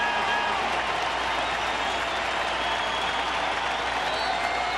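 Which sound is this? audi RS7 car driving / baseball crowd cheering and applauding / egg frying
baseball crowd cheering and applauding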